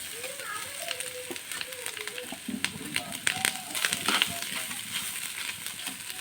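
Grated coconut sizzles in a pan of hot fat while being stirred, a soft crackling fry running throughout with scraping stir sounds, as someone talks over it in a home kitchen.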